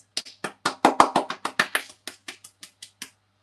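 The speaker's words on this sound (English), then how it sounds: "How do I clap my hands like this?" About fifteen sharp hand claps in a quick, slightly uneven run over three seconds, close and crisp, growing a little softer toward the end, alone with no talking.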